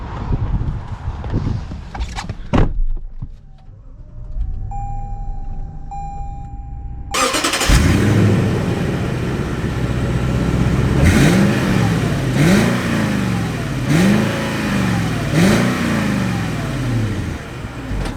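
Lexus LX 570 SUV engine cranking and catching, then a steady loud idle followed by several rising and falling revs, heard up close with no speech.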